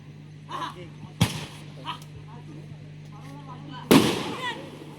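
Two sharp firecracker bangs burst out a few seconds apart at a wrestling semifinal, the second louder, between smaller pops over a steady background hum.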